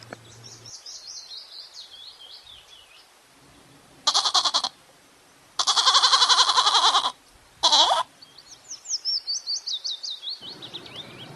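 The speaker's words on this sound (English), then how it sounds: "G for goat." A goat bleats in several loud, wavering bursts, one short cry and then two longer ones, set against steady chirping birdsong on a farm.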